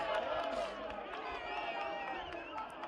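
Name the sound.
home football crowd cheering after a goal kick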